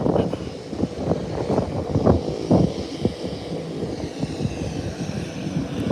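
A fixed-wing airplane that has just landed at an airport rumbles steadily at a distance, with engine drone and gusty wind noise against the microphone and no talk.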